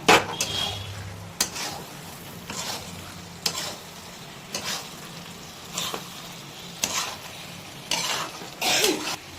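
Masala for dhaba-style paneer frying in a pan while being stirred, a steady sizzle broken by regular scraping strokes of a spoon about once a second, close and fairly loud, with no voices.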